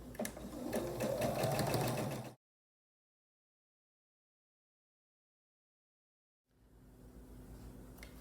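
A sewing machine stitches quilt block pieces for a 12.5-inch Card Trick block, with steady close running for about two seconds, a long silent gap, then quieter machine hum returning.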